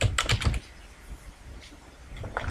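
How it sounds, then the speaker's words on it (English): Quick bursts of keystrokes on a computer keyboard while entering data into an Excel form, a close rapid cluster at the start, then a quieter pause and a few more taps near the end. "I'll then just record typing the word date, pressing the right arrow, typing person"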